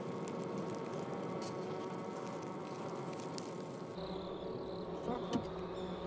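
Kept wild Japanese bees buzz in a steady, dense drone of many insects, moderately close and continuous, with occasional louder passes and no talk.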